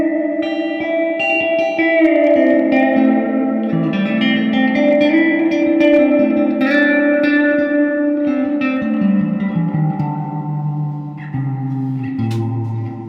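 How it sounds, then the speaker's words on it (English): Electric guitar played through a hand-wired Fender Deluxe Reverb amp with the reverb turned all the way to 10, loud sustained chords and notes washed in heavy, lingering reverb tails, steady throughout with no talking. "Let's turn the reverb all the way up to 10."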